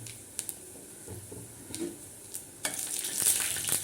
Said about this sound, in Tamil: இதை போட்டு நல்லா வெடிக்க விடணும்